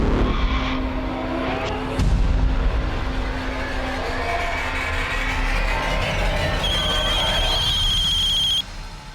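A car driven fast and recklessly, its engine roaring and tires skidding loudly near, joined by a brief ringing tone toward the end.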